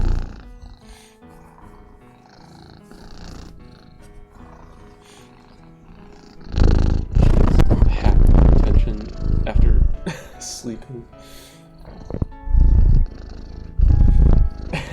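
Toffee the cat purrs right against the microphone, a deep rumbling purr that swells loudly in the second half in repeated bursts, while a person speaks softly over the quieter opening.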